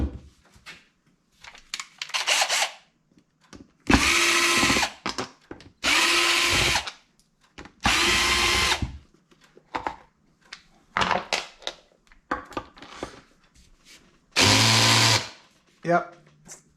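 An impact wrench rattles in loud, close bursts of about two seconds each during a stock Yamaha Banshee motor rebuild, with quieter workshop handling and some talk in the gaps.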